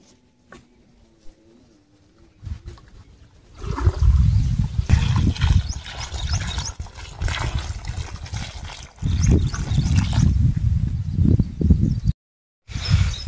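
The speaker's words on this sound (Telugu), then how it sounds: "దానికి నీళ్ళు వేయలేదు. ఇప్పుడు పోయి పోసేద్దాం." Water is poured from a container onto a newly planted young tree on a farm, a close, uneven splashing trickle that comes in several bursts with short pauses between them.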